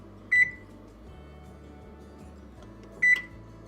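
Two short, sharp electronic beeps from a kitchen oven being set to preheat, evenly spaced about three seconds apart over a quiet background hum, with no talking.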